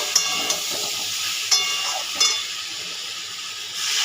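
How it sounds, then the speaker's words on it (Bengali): Water hits a hot pan of frying potatoes and ridge gourd, setting off a loud burst of hissing steam and sizzle, with a few sharp spatters and clinks as it settles into a continuous bubbling hiss close up. "ভাজা মোটামুটি হয়েই গেছে, এবার আমি জল দিয়ে দেবো।"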